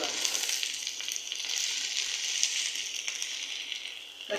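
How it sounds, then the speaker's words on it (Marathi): Ingredients for taro leaf curry, including chillies, sizzle steadily in a pan as they are sautéed, a soft continuous frying hiss with faint stirring scrapes and no talk. "हे सगळं परतून घेऊया."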